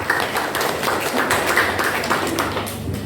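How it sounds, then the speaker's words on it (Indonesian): Audience applause for a visiting professional writer at a school book event, a dense, steady clapping from many hands that fills the room evenly for a few seconds with no talk over it. "berikan aplaus dulu"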